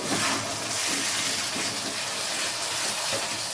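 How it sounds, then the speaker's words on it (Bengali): A little water is poured into a pan of cooking onion and garlic masala for egg curry, giving a steady close hiss and splash that lasts a few seconds with no talking. "এবার এর মধ্যে অল্প একটু জল দিয়ে দিলাম"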